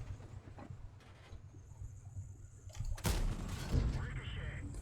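A light tank's main gun fires once in a tank video game on a mines map, a sharp loud blast followed by a rumbling decay, with low engine drone underneath and a voice talking.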